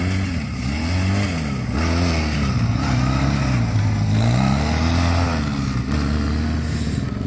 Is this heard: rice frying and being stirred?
no